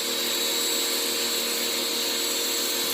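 Pressure washer with a soap nozzle spraying foam over a Suburban, a steady, loud, hissing roar that holds without a break.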